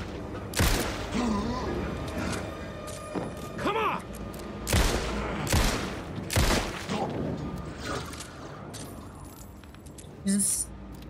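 Gunshots in the video game Alan Wake 2 ring out as a handful of sharp, loud cracks spaced a second or so apart, with a player talking between and around them.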